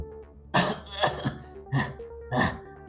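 A man coughs and clears his throat four times in rough, throaty bursts, close by with short pauses between them.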